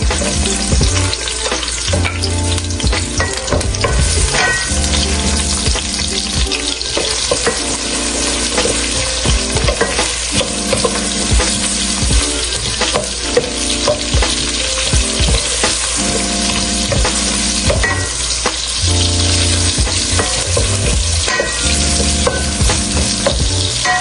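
Onions sauté in a pan for beef pochero, a loud, steady sizzle that runs without a break, with stirring scrapes and clinks of the utensil over it.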